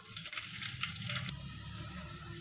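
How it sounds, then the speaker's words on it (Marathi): Garlic drops into hot oil for a tempering, a close, crackling sizzle that flares sharply for just over a second and then settles into a quieter steady fry. "तेल पण गरम झालेलं आहे आता टाकते लसूण"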